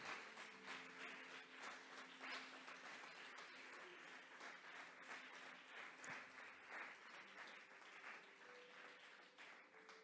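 Church congregation clapping at an evening youth service, a faint, steady patter of applause sustained for about ten seconds with no talk over it.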